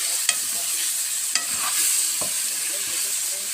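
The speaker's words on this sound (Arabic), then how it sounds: "بعدين انزل عليها بالطماطم" Blended, strained tomato purée poured into a pan of frying beans and meat, giving a steady close sizzle with a few sharp clicks and light stirring scrapes, and no talking.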